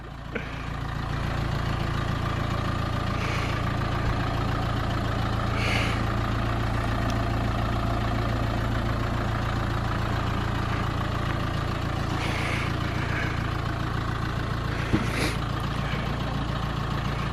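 A car engine idles steadily throughout, a low continuous hum with a faint steady drone and a few brief higher hiss-like bursts, fairly close and with no talking.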